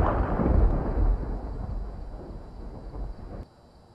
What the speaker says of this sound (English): Who struck me with lightning?